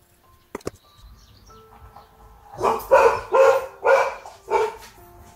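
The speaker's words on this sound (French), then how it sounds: "pendant que les chiens font du bruit." Several dogs bark in a run of four or five loud, close barks, preceded by a couple of brief knocks and a quieter stretch.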